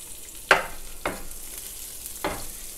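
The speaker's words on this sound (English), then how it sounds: "so now I'm going to go in with about 8 sage leaves" Sage leaves cut into thin strips fry in rendered fat from crisped pancetta as a spoon stirs the pan, giving three distinct scraping clatters over a soft, steady sizzle.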